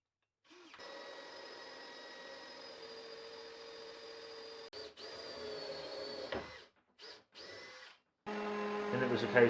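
A drill bores a hole into wood for a handmade bird box, whining steadily and close for several seconds, then stopping and starting in short bursts.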